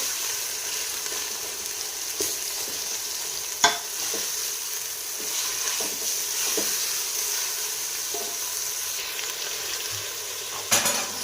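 Minced meat (keema) fries in a pan with a continuous close sizzle, broken by stirring and a couple of sharp utensil clinks against the pot.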